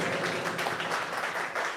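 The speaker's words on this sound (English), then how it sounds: "So please give them a big round of applause" Applause for the volunteer kitchen team at an annual general meeting of a London Vedic education institute, a steady wash of clapping from the gathered audience filling the short moment without pause.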